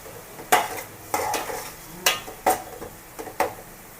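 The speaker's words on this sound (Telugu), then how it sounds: "అల్లం వెల్లుల్లి పేస్ట్ వేసుకుంటున్నాం అండి ఒక అరసుకును ఇవన్నీ మొత్తం బాగా వేగాలి" Ginger garlic paste fries in a pan for a fish gravy, heard as a series of about seven distinct spatula scrapes and clanks over a faint background sizzle, close by with no talking.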